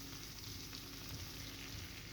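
Skillet potatoes fry in a pan, giving a steady, close, fairly quiet sizzle with soft crackles throughout and no talking.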